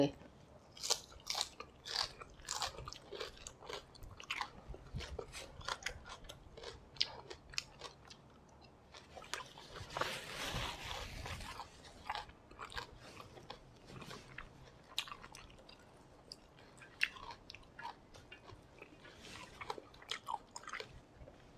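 Close, crisp crunching bites and chewing of raw bamboo shoots and fresh leaves, steady and repeated throughout, with a brief louder rustle partway.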